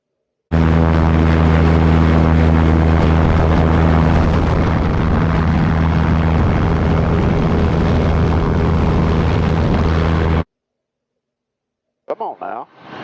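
Propeller-driven P-51 Mustang fighter roaring loud and close through its takeoff run, a steady engine drone with strong harmonic hum, cutting off abruptly before brief talk.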